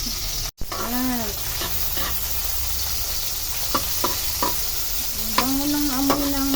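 Garlic, onion and ginger sizzling in a pan for a mackerel dish, a continuous frying hiss with occasional stirring scrapes and a brief thump near the start, close and unaccompanied by talk.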